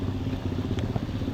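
A motorcycle rolls through a flooded stretch of MacArthur highway in Pampanga, its engine a steady mid-pitched drone mixed with splashing and clattering from the water, close and fairly loud throughout with no talk.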